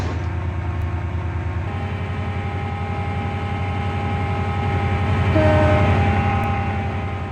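A three-coach passenger train in the video game Stepford County Railway rumbles steadily past with a low, continuous drone and rhythmic clatter, swelling slightly louder near the end; no voices.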